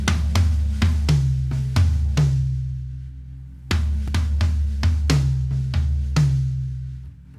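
Kick drum and toms, including a 10-inch rack tom, play bar 11 of a song: a loud, steady run of booming hits with low ringing decays and a short pause midway, close and alone.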